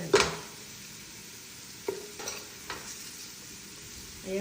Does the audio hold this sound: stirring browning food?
yes